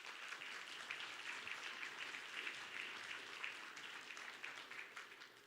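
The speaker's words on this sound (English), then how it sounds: "So give Grace a round of applause," A church congregation applauding during a Sunday service, a fairly faint, steady wash of clapping that holds for several seconds with no voices over it.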